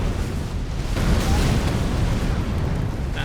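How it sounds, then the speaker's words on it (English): A heavy explosion in the video game Elden Ring Shadow of the Erdtree, a loud rumbling boom with a dense low roar that swells after the first second and stays thick to the end. "Not how I anticipated the explosion, but an explosion nonetheless."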